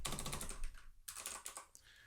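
Quick bursts of clicky keystrokes as someone types Java test code on a computer keyboard, close and quiet, with a brief pause midway and no talking.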